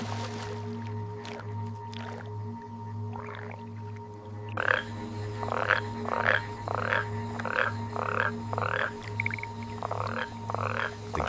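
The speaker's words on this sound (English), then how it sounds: "They inflate their vocal sacs, translucent balloons beneath their throats, and emit a deep, rhythmic thrumming." Male forest toads call at a breeding pond, a steady series of deep, rhythmic thrumming pulses repeating about once a second after a quieter opening, over a constant low hum.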